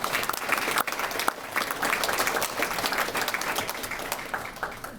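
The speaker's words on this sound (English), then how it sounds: "So let's give those three students a round of applause" An audience at a reading challenge awards ceremony during Fiesta Days applauds student winners, a loud, full round of clapping with sharp individual claps standing out, sustained steadily from start to finish.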